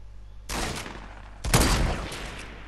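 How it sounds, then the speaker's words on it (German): Rapid weapon fire in a multiplayer shooter duo match, two loud dense bursts of fast gunfire a second apart, close and alone without talking. "Schau, wie schnell man damit schießen kann."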